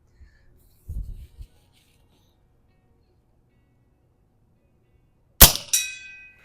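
A .25 caliber Barra PCP air rifle fires once with a sharp crack, followed by the bright ringing ping of a metal target hit at 50 yards, after a brief low thump.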